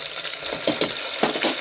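Onion with ginger-garlic paste frying in a pan as it is stirred, a steady soft sizzle with several brief scraping strokes, fairly quiet and with no talk.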